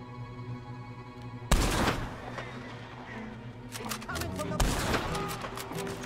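Gunfire in Red Dead Redemption 2, a loud volley of shots bursting in after a quiet stretch, followed by several sharp repeated cracks and another heavy blast near the end.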